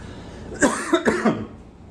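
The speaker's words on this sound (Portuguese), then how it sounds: "Tosse, que não é de coronavírus, mais um pouquinho de tosse." A single person coughs several times in quick succession, close and fairly loud, in an otherwise quiet room.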